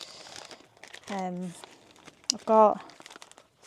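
A plastic bag crinkles in two short close bursts while a man packs his watch and race nutrition for a triathlon transition at a 70.3 race in Duisburg, with talk around the rustling.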